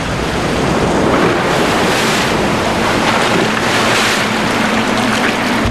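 Rising sea water washes onto the shore, a loud, continuous roar of surf and breaking waves with heavy wind buffeting throughout.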